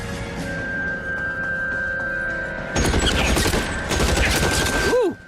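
Bursts of gunfire in the video game L.A. Noire, two dense volleys of rapid shots after a quieter stretch of background ambience.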